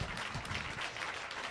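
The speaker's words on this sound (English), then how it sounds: "give another round of applause to Tara Wise for sharing your story" Brief burst of audience clapping at a women's healing and empowerment forum, a dense, fairly faint round of applause lasting a moment and heard alone.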